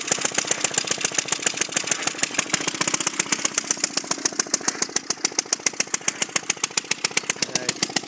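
Antique Merry Garden Auto Cultivator garden tractor engine running alone at a fast, steady single-cylinder putter, close and loud, with rapid even firing pulses throughout.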